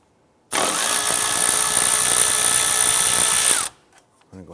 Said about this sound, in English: I'm going to go ahead and use a 10mm socket right here to go ahead and remove this bolt holding the ABS sensor to the